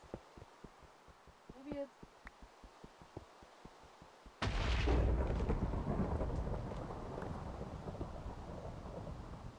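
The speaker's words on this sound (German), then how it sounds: "Was ist das hier für ein Donnerwetter?" Thunder in the Minecraft video game strikes suddenly as a loud crack, then rolls on as a long, heavy rumble; quick rhythmic footstep-like taps are heard before it.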